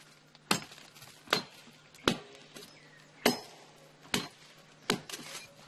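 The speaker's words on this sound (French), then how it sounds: "Il le fend à l'aide d'une machette." Sharp, dry machete strikes bite into a tree trunk at a steady pace, about seven chops spaced roughly a second apart in a quiet outdoor setting in Cameroon.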